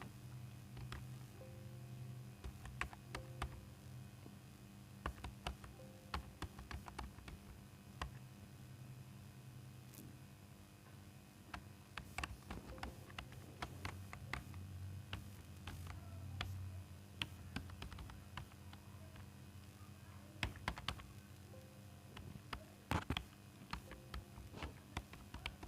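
Sparse, quiet clicking of a computer keyboard and mouse while text is entered into an Excel spreadsheet, light taps arriving in irregular bursts with short pauses and a faint low hum underneath.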